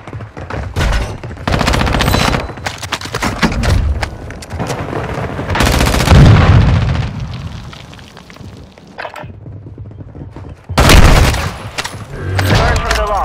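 Call of Duty: Modern Warfare 2 gunfire in loud, dense bursts, rapid automatic volleys and heavy cracks that come in waves with short lulls between them.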